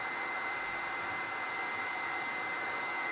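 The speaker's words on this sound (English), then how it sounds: "I'm trying to go here with the heat gun" A heat gun blowing hot air to dry a patina craft project gives a steady, loud, unbroken whooshing hiss with a faint high whine, running alone with no voices.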